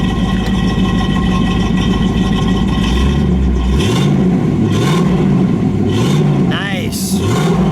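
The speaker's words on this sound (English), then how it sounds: "give it a rev, please." A 1964 AMC Rambler Ambassador 990 H car engine idles with a steady low rumble, then revs up several times in rising and falling surges, close by.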